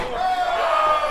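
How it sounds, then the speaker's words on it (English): A crowd at a wrestling match cheers and yells loudly in a brief, sustained roar of many voices. "This crowd is in it, Nick."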